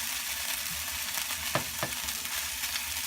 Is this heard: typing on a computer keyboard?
no